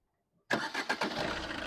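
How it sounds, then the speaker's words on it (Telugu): A 2018 Maruti Dzire VDI diesel engine starts on a single crank after a brief silence, catching at once and settling into a loud, close, rough idle. "సింగిల్ సెల్ఫ్లో బండి స్టార్ట్ అవుతుంది, ఎటువంటి స్టార్టింగ్ ట్రబుల్ అయితే లేదు."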